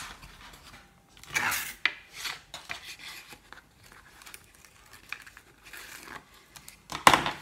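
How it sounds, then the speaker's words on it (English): A bone folder burnishes and creases paper while a woven-threads mini album is assembled. It makes close, intermittent scraping and rubbing strokes in short bursts, with quiet gaps between them and a sharper crackle near the end. "Now I'm going to burnish it with the bone folder."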